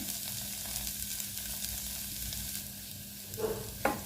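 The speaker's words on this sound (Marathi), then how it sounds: "अजून एक मिनिटभर परतणार आहोत म्हणजे अजून छान वास येईल त्याला" Grated carrot for carrot halwa sautés in a pan with a constant, even sizzle. Near the end, a couple of brief stirring knocks and scrapes rise over it.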